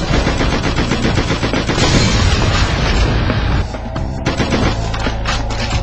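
Loud, sustained gunfire and booming blasts in the SpyHunter Nowhere To Run video game form a dense, continuous barrage with rapid automatic fire, briefly easing before resuming.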